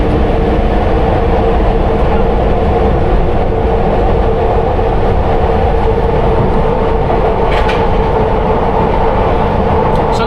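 A London Underground Piccadilly Line train runs at speed, heard from the rear cab as a loud continuous rumble and roar with a steady hum and faint rattles and squeals.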